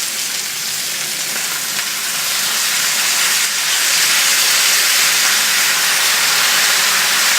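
Boiled kale seasoned with salt and pepper is dumped into a hot pan, giving a loud, steady broadband hiss and sizzle that swells slightly and holds for several seconds with no talk.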